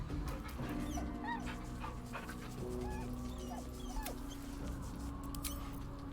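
Dog whimpering and yipping in the video game Baldur's Gate 3, short high whines and yelps over a dense, steady low game ambience, no talk.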